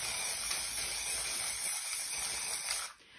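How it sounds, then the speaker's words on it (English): Aerosol spray paint hissing steadily onto collage paper for about three seconds, a continuous bright spray that stops near the end. "You just want to cover up any areas that you don't want spray because the overspray is pretty huge and it goes,"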